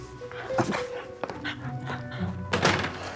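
Binky the dog whimpers, yips and thumps indoors in a period household, several short sounds at close range over faint background voices and room noise.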